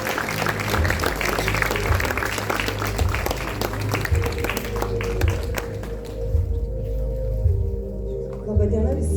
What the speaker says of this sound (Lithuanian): Pasitikime plojimais.